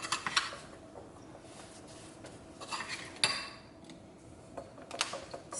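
A spoon clinks and scrapes through a thick homemade hibiscus face scrub in a bowl, with vitamin E oil mixed in, making scattered light taps and soft scraping at close range with no talk.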